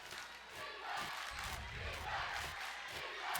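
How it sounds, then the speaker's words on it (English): Spectators at a girls basketball district championship game against Penns Manor fill the gym with a sustained, fairly distant roar of cheering and shouting that swells slightly mid-way, with voices blended into the crowd. "There's a nice crowd here tonight, Jeannie."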